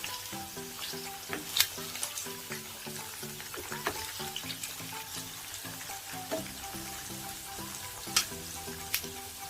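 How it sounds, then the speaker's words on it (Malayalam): Prawns shallow frying in oil for a prawn pickle, a soft, steady crackling sizzle with scattered pops and occasional stirring taps, quiet and close, with no one talking. "ഇനി ഇതൊന്ന് ഷാലോ ഫ്രൈ ചെയ്തെടുക്കാം"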